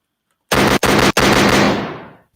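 A gunshot sound effect plays as a loud, sudden close burst, broken by two brief gaps, then trailing off in a fading echo after a moment of silence.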